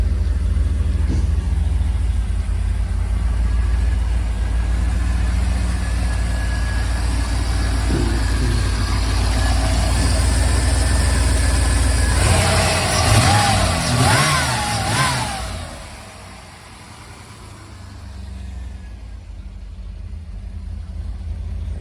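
An Iroc Camaro G92 convertible with a 5-speed idles with a deep, steady rumble, then revs hard in a brief burst before settling back to idle, close and loud.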